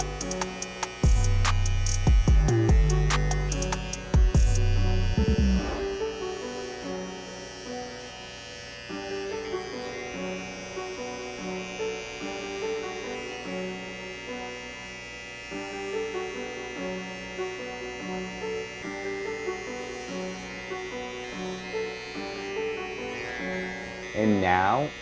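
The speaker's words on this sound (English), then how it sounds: "And now I'm going to use my Andis wireless trimmers." Andis wireless hair trimmers buzz steadily while cutting hair during a fade haircut with curls, a continuous close electric hum that runs throughout, with some clicks and handling noise early on.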